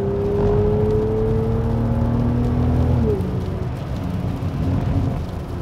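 A V12 BMW 7 Series accelerates hard in third gear, its engine note rising steadily in a smooth drone, then dropping briefly at a gear change before pulling again under constant road and wind noise.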